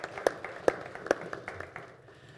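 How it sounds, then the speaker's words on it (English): A few sparse claps ring out at a live artist panel on Latinx art, three sharp close hand claps spaced evenly followed by softer scattered ones that fade out. "Let's give them a round of applause as well"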